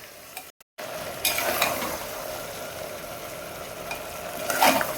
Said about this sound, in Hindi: अब दोनों चीज़ों को मसाला के साथ अच्छे से भून लेंगे